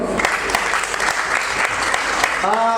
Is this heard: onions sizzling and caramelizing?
no